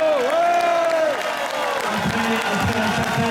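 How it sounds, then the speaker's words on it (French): Crowd at a French intersyndical union rally applauding and cheering loudly and continuously, a dense broadband clatter with a sustained tonal voice or horn sound over it early on. "on peut les applaudir"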